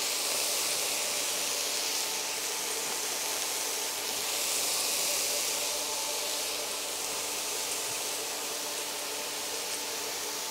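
Schnitzels frying in a hot pan, a steady, even sizzle and hiss that holds for about ten seconds at moderate level with no voices over it.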